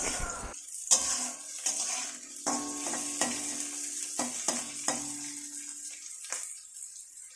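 Cardamom, cinnamon and cloves sizzle steadily in a hot pan for sama rice fried rice, a continuous bright frying hiss broken by occasional clinks and scrapes of stirring, close and alone with no talk.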